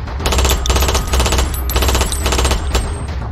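Rapid automatic gunfire rattles in several loud, sustained bursts with brief gaps between them, close and dominant in an action film scene.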